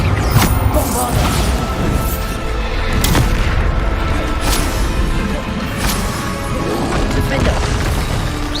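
A Bombarda spell explosion in the Hogwarts Legacy video game, heavy booms and crashing impacts repeating through a loud, busy battle mix, with voices calling out over the action.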